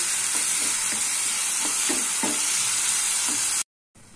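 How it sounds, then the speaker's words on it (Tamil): Tomatoes with turmeric sauté in a pan, a steady loud sizzle with soft stirring scrapes recurring every half second or so, running alone before cutting to brief silence at the end. "இந்த தக்காளி நல்லா மேஷ் ஆகிற அளவுக்கு நம்ம நல்லா வதக்கிக்கலாம்"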